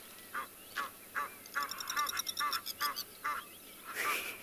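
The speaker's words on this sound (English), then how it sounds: "And some very, very noisy Egyptian geese." Egyptian geese on a South African morning safari calling noisily: a run of loud, harsh honking and cackling bursts in quick rhythmic succession, close by, with no talk.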